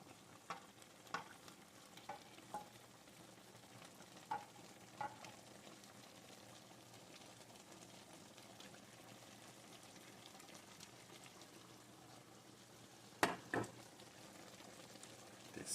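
Oil sizzling in a pan as it is stirred while cooking egusi soup, a steady soft hiss with faint scraping ticks and a couple of louder clanks near the end.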